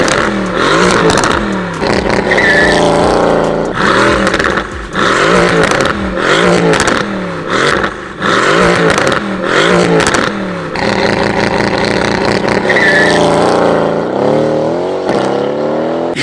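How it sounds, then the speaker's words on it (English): A Mercedes-AMG GT S sports car fitted with an aftermarket exhaust system revs hard again and again, loud and close, the engine note rising and falling in rapid bursts throughout. "I've seen videos, which I'll throw in a few clips right now, of how the AMG GTS sounds with an exhaust system."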